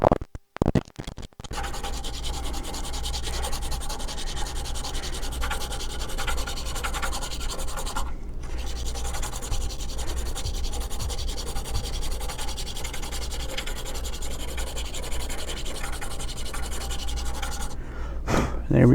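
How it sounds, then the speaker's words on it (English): A fingernail file rubs steadily across the rough edge of a handmade arrow, a continuous close scratchy rasp that runs with few pauses. "I'll take my fingernail filer and I'm gonna smooth out this rough edge here that you can see"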